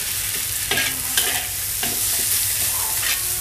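Beef fried rice is stir-fried in a hot pan, with constant sizzling broken by rhythmic scraping and tossing strokes from the spatula, close and loud.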